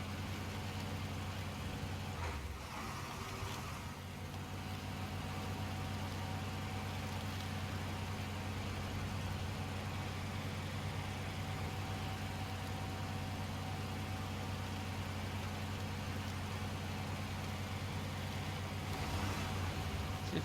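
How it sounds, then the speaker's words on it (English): A heavy truck engine in the video game SnowRunner drones steadily at high revs in low gear, a constant low rumble with a sustained whine, no pauses or voices. "Listen to how much the engine's winding up."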